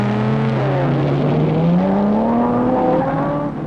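A 1955 Mercedes 300SLR race car engine roars loudly and steadily as it pulls away, its rising pitch climbing over about three and a half seconds before easing off slightly at the end.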